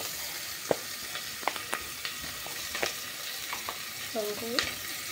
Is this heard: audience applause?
no